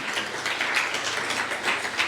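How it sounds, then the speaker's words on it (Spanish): A church congregation claps for God during a Spanish-language sermon, steady dense applause with rhythmic swells, fairly close and filling the short stretch alone. "¿Por qué no das un fuerte aplauso a Dios en esta tarde?"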